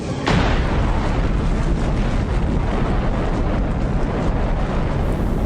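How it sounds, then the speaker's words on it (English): Detonation of an atomic bomb: a sudden loud blast followed by a sustained, roaring rumble that stays dense and heavy throughout, with no talking. "The U.S. successfully detonated its first atomic bomb in the last year of World War II."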